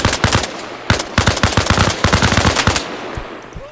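Rapid automatic gunfire in the military shooter Arma Reforger, loud, close bursts of rattling shots in quick succession with brief gaps, continuing for several seconds.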